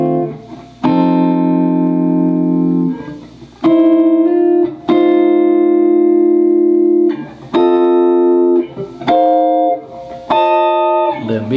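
Jazz guitar drop 2 voicing chords in F, a clean sequence of sustained chords struck one by one, some ringing long and others shorter, moving through a chord progression at a relaxed pace.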